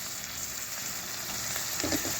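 Tomato pieces fry in a pan with onions and green chillies for a soft pickle dish, a steady close sizzle with a brief stirring scrape near the end and no talking.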